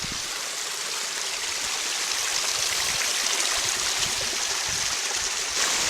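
Steady rushing water of a shallow creek below upper falls, its bed thick with green plant growth; a constant broadband wash that stays even and close throughout, with no voices.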